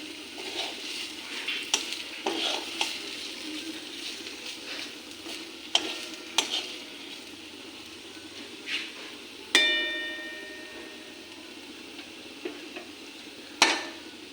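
Sugar and lemon are stirred into a ridge gourd mash in a pan over a quiet sizzle. A spoon scrapes and clinks against the pan, including a few sharp metallic taps.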